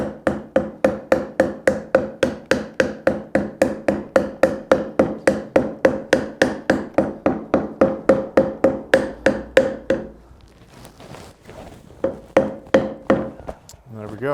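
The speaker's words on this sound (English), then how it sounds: "just drop the hammer on it and let it kind of rest its way in" Steady rhythmic wooden taps of a hammer driving a hand-cut dovetail joint together, dozens of evenly spaced knocks, pausing briefly before a few more taps resume.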